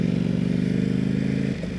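A Ducati Panigale V4 sportbike in sport mode runs with a steady, throbbing engine note. The pulse is close and loud and eases slightly near the end, with no talking.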